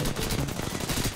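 Rapid automatic gunfire in the Apex Legends video game, a dense close burst of shots packed into about a second with no pause.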